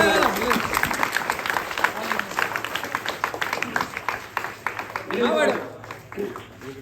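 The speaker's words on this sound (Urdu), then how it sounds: "زوردار تالیاں ایک مرتبہ ہمارے ان دونوں دوستوں کے لیے" A crowd at a religious lecture gathering claps in a rapid patter that rises and falls, while a voice speaks loudly over the applause.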